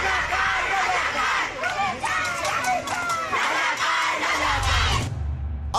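Street protesters in Bangladesh chanting slogans together, a dense crowd of raised voices shouting in rhythm, loud and continuous, with the noise cutting off abruptly near the end.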